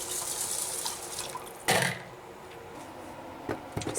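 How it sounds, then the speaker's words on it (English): Stock is poured from a container onto rice in a pot, a soft continuous watery splash with a brief louder splash midway and a few light knocks near the end. "We'll put in our stock. So 4 cups of stock to 4 cups of rice."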